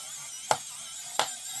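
A KAIWEETS ES20 electric screwdriver undoing a screw, giving a steady high whine with two brief sharp clicks or ratchets spaced under a second apart, close and alone.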